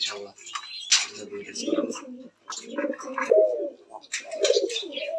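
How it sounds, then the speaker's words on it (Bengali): Racing pigeons coo at a pigeon farm in Ghatail, Tangail, with close, throaty rolling coos and a few chirps, while a person talks over them. "তো আমরা এই জায়গায় তুরি বাস কবুতর দেখতে পাচ্ছি"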